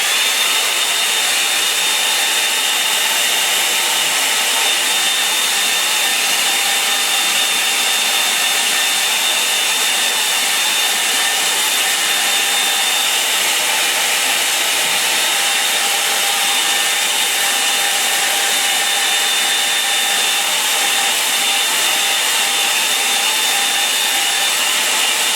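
Hair dryer blowing on a watercolour painting, a steady loud whooshing hiss with a constant motor whine running unbroken for about 25 seconds, no talking.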